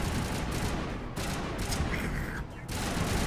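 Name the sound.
gunfire from the video game Mass Effect Legendary Edition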